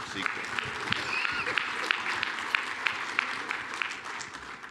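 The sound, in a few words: applause for the panelists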